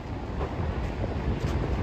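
Wind buffeting the microphone over sea waves on a beach near Baku, a loud, steady roar with the surf blended into the rumble and no speech.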